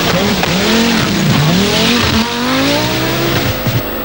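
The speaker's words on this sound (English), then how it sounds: "is using all the revs at her disposal and the rev limiter" A Group B rally car engine screams at high revs, pitch rising and bouncing as it hits the rev limiter, loud and close with tire noise.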